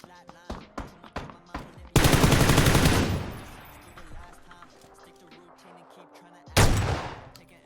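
Gunfire in PUBG: a few sharp single shots open, then a loud sustained automatic burst dies into rumbling echo, followed later by a second short, heavy burst.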